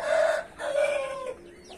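A large rooster crows nearby in two loud, drawn-out calls, the second trailing off into a fading croak.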